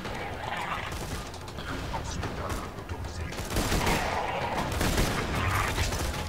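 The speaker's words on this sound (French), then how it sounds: "C'est un sniper qui tire en rafale" Sniper rifle in the video game Borderlands 2 firing in rapid bursts, dense clattering gunfire running throughout under faint game noise, growing slightly louder toward the end.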